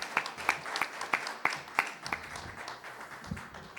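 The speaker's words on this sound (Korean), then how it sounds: "이 시간 하나님께 영광의 박수 올려드리겠습니다." A church congregation claps in steady unison during a Sunday worship service, about three claps per second, the beat loosening and fading toward the end.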